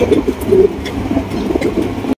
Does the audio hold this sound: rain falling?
no